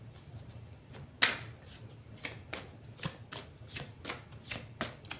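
Oracle cards are shuffled by hand, giving a quick riffle followed by a series of soft, evenly spaced slaps and flicks, close and fairly quiet with no talk.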